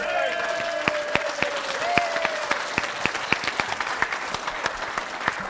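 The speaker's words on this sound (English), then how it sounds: "how about a round of applause?" Scattered clapping from an audience at a student auction, sparse individual claps rather than a full ovation, with a voice talking over it.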